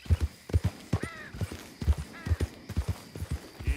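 Horse galloping in Red Dead Redemption 2, rhythmic hoofbeats in quick clusters of clip-clop with breathy snorts and a brief squeaky creak of tack between strides, fairly close and clear, with no talk.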